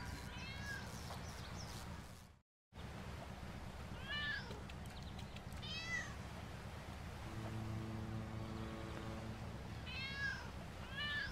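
A cartoon cat in the LEGO City Undercover video game meows several times in short rising cries over a steady low game background hum, with a brief dropout early on and no talking.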